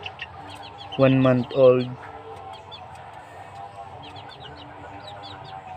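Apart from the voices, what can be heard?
young cockerels clucking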